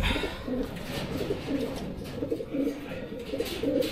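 Racing pigeons coo softly and repeatedly at the loft on arrival from a derby race, a low rhythmic burbling that runs steadily throughout over faint background noise.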